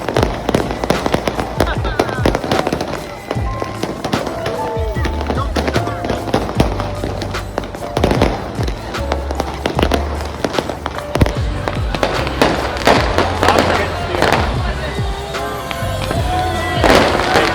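Dense, chaotic fireworks crackle and boom from rooftops all around a Cairo neighborhood at midnight on New Year's, loud, continuous bursts and pops with no pause.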